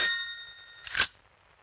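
A telephone gives a single short bell-like ring that fades quickly, followed by a faint clack, in an otherwise quiet room.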